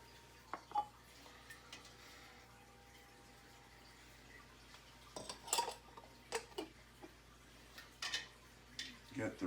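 Hot metal canning jar lids and rings clink and scrape in scattered faint bursts, close by, with quiet kitchen noise and a low hum between them, for blackberry jelly.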